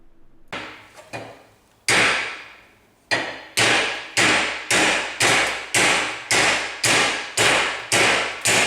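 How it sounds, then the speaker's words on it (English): A hammer strikes a metal bracket about a dozen times while bending it, a few irregular taps first, then loud evenly spaced blows that ring briefly after each hit. "So I'm gonna try to bend this bracket down with a hammer."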